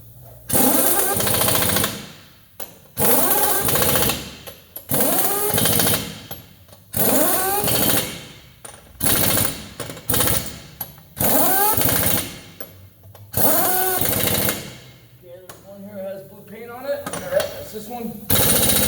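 An impact wrench hammers truck wheel lug nuts in a string of loud, close rattling bursts of one to two seconds each with brief gaps between, torquing them during a brake change.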